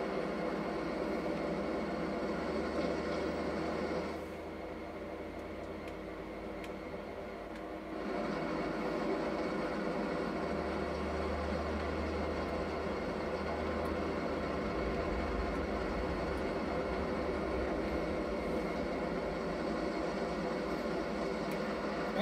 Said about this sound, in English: that's us hijacking the train